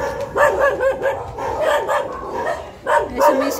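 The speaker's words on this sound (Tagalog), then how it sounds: "Nagagalit na yung kanyang mga aso." Several dogs at a house bark and yip angrily at visitors behind a window, with repeated loud barks in bursts, close and dominant throughout.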